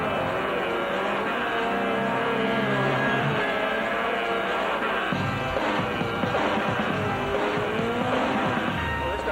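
A 2.2-litre race car of about 180 horsepower runs at Goodwood, its engine droning and revving steadily for several seconds with a harsher burst of acceleration midway.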